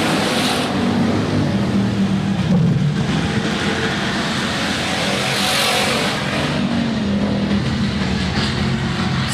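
Hobby stock race cars at Rapid Speedway roaring past in a steady, loud engine drone, with pitch swells as cars pass close by and crowd or track noise behind.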